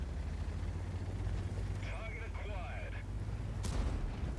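A single heavy tank cannon shot strikes an AMX in World of Tanks, a sharp broadband blast near the end over a steady low engine rumble, with some brief chirping tones just before it.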